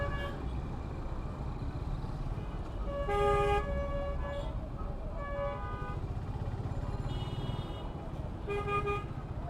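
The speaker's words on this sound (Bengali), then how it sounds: "হর্ন দিতেছে, হর্ন দিলে কি যাইব?" Car horns toot in busy city traffic around a Suzuki Gixxer motorcycle, with a prominent blast near the middle and another near the end over a steady rumble of engines and road noise.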